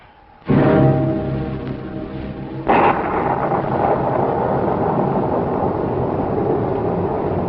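A sudden loud rumbling boom erupts, followed by a second crack and a sustained roaring rush like howling storm wind and thunder, heavy and continuous.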